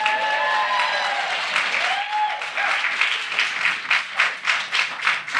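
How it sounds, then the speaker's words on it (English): A live talk show audience with Bob the Drag Queen bursts into loud, close applause with a few whoops at the start, settling into dense clapping that swells in rhythmic waves toward the end. "Applause for that"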